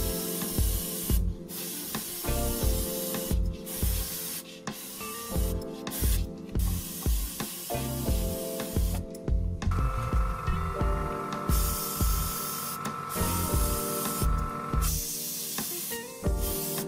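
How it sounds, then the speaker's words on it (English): Medium brown paint is sprayed onto a diorama model textured with gravel and sand, in repeated short hissing bursts with a steady rhythm, close and fairly loud, with no voices. "Now we are spraying medium brown color."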